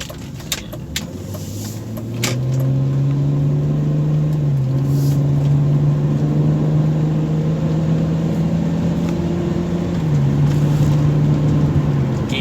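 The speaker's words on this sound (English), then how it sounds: "The engine just hums." BMW E46 330ci coupe cruising on the road, its engine a steady low hum that shifts pitch briefly around a gear change, with road and wind noise filling in around it.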